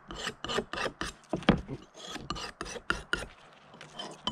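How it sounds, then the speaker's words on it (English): Beaver skinning knife being sharpened, a steady series of rhythmic rasping strokes, about two or three per second, close and fairly loud with no talk. "Okay, that's time for a sharpen."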